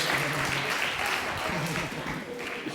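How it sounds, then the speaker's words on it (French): The audience at a health seminar gives a sustained round of dense, even applause, fairly close, with some faint talking mixed in beneath the clapping. "We'll give you a round of applause."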